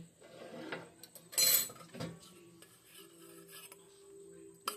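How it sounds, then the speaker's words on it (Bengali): Hands knead wheat flour dough with a pinch of salt, giving faint, intermittent rubbing and rasping strokes with a few soft clinks of a bowl in a quiet kitchen. "প্রথমে আমি আটাটা মেখে নেব"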